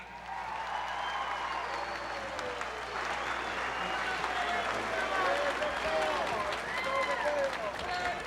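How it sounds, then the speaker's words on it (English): Crowd at a Knoxville pro wrestling hall of fame induction ceremony applauds a Southeastern Championship Wrestling inductee, sustained clapping and cheering that fills the room, with voices calling out over the steady roar. "Please, a big round of applause for Mr. Phil Rainey."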